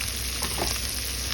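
Shrimp going into a hot frying pan for Filipino bamboo shoot in coconut milk, giving a dense, steady, close sizzle that holds evenly through the short moment with no talking.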